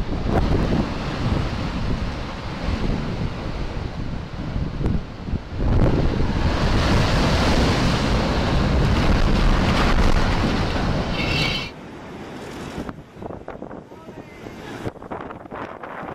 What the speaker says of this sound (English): Strong waves in Portugal decide to give some garbage bins a good clean.